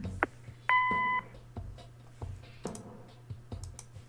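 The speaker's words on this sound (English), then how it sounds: "Leave a message after the beep." In the video game Kathy Rain, an answering machine gives one short steady electronic beep, clear and close, surrounded by soft clicks and taps against a low hum.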